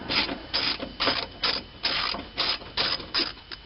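Wrench ratcheting a long rusty bolt back and forth on a Pontiac G5 during fuel line replacement: a steady run of close, rhythmic metallic clicking bursts, about ten strokes, with no talking.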